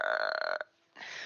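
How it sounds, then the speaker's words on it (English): A cartoonish game character lets out a long, loud belch in Glitter Hearts, Dancing Queens, voiced and sustained for about half a second before breaking off, followed by a brief quiet gap and then a softer, breathy tail of noise. "It's not cute to belch during opening night."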